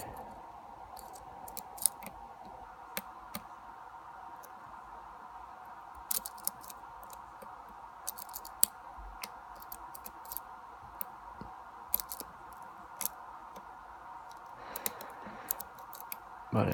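Small, faint metallic clicks and ticks from picking a Potti314 lock come irregularly over a quiet hum, each sharp and brief, with no talking.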